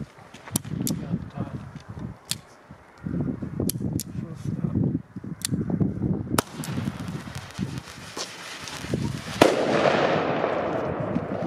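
New Year's Eve fireworks and firecrackers launch and burst outdoors in sharp, loud cracks and bangs at irregular intervals, ending in a crackling fizzing spray, with people talking between shots.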